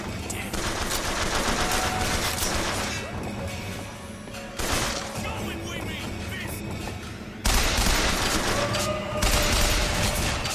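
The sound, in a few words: machine gun firing in BioShock Infinite video game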